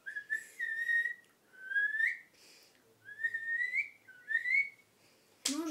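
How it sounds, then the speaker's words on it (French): Someone whistles a series of rising, sliding notes in short phrases, clear and close, ending with an abrupt noisy clatter. "j'ai fait un siffle, regarde mes sifflements"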